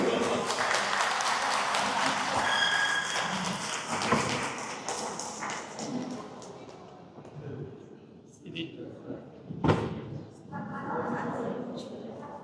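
Audience applause welcoming Buddhist monks at a Korean professors' Buddhist gathering with Abbot Jeongnyeom of Woljeongsa, a broad clatter of clapping that fades over several seconds, followed by a few scattered thumps and murmured talk.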